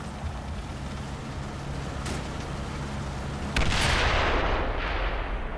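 Gunfire in Combat Mission Red Thunder, a steady battlefield roar broken by a sharp shot and then a loud, heavy burst of firing that swells into a broad, noisy wash.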